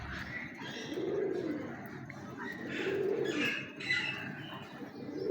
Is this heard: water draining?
no